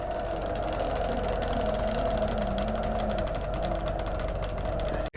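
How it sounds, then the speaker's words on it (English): A tractor engine runs steadily while pushing a stuck Ferret Scout armoured car toward a garage, a continuous droning mechanical hum with a faint rattle, near and even, cutting off abruptly at the end. "I'll push it with the tractor if it gets stuck."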